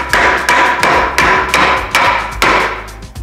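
Sharp repeated hammer or mallet taps knock apart a joint on an antique wooden chair, about seven evenly spaced loud blows with short ringing decay, heard alone and close up.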